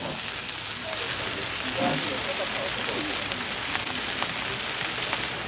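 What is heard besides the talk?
shrimp frying in pan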